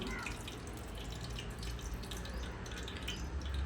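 Cooking oil goes into a heated pot on a gas stove for Malvani steamed chicken, making a steady, even hiss of liquid that runs unbroken from start to end at low volume.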